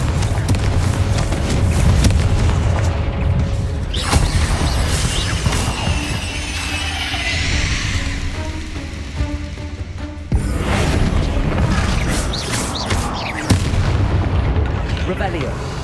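Confringo blasting spell going off in the Hogwarts Legacy video game: repeated booming explosions and crashing impacts over a constant loud game soundscape, with speech mixed in.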